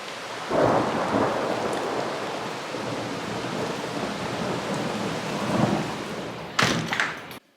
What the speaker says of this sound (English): Thunder and lightning and hail, rain, wind.